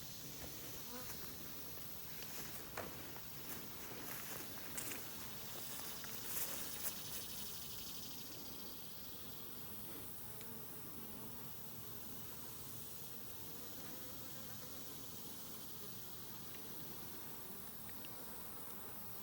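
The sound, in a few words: aggressive honeybees buzzing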